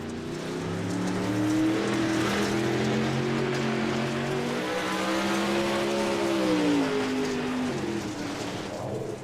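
A Pro Late Model race car rolls out of the pits on a track, its engine droning steadily with rising and falling pitch as it pulls away. The engine is loud and close and there is no talk.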